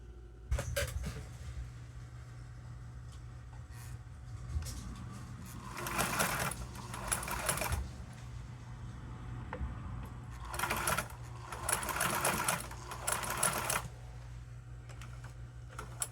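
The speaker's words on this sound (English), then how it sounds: "I'm just going to sew a little 3/8 of an inch long little teeny seam right here to join these two." A sewing machine stitches a tiny 3/8-inch seam on a fabric project bag in short bursts, several quick rattling runs of a few seconds each separated by quiet pauses, fairly faint over a low room hum.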